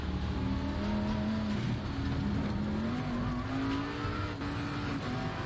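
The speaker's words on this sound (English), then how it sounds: "Another Lamborghini has spun out" Lamborghini race car spinning out on the Zolder short track in a racing simulator game, tires squealing in a long wavering skid over a steady engine drone.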